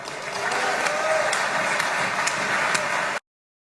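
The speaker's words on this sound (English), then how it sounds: "besides the amazing applause for that" Dense applause from a large crowd greets the President's speech in Israel, a steady, loud roar of clapping that holds for about three seconds and then cuts to silence.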